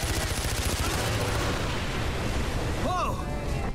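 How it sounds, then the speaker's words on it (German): Gunfire from a weapon in the video game Far Cry 4, a dense rattle of shots mixed into game noise and music, with a voice talking over it near the end. "Wer ballert da?"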